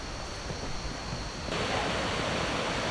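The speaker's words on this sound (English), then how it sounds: "There's the waterfall." A waterfall on a forest hike in northern Thailand gives off a dense, steady rush of falling water that grows louder and fuller halfway through, with no voices.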